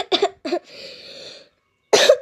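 A few sharp, close coughs in quick succession, a raspy breathy pause, then another harsh burst of coughing, from people with colds.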